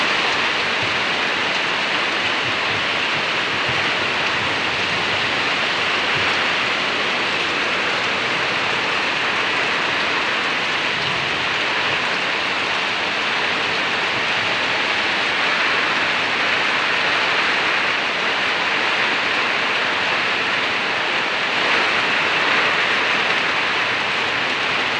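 Heavy rain falls at Pampi Bazar, a dense and constant hiss of downpour that stays loud and even throughout.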